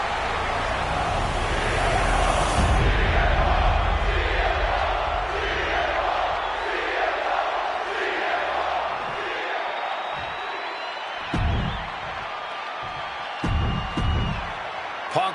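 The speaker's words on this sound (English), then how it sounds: "And the roar of this crowd is absolute." A huge arena crowd in the WWE 2K26 wrestling video game roars loudly and continuously, with swelling cheers and chanting. A few heavy thuds and slams cut through near the end.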